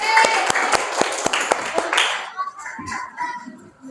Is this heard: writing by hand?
no